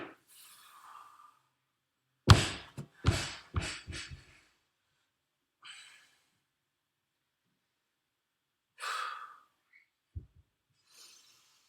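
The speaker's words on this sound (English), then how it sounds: "Nasal breathing as soon as you can to recover." Heavy breathing from someone recovering after a workout stretch, a run of quick sharp breaths followed by scattered slower exhales, close to the mic and separated by silence.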